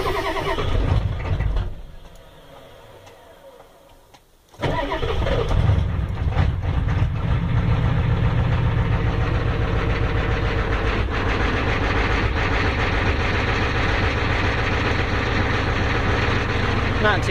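A Ford 7.3 IDI diesel engine cold-starts at about 30 degrees after a pause, then settles into a loud, steady idle that runs on for many seconds.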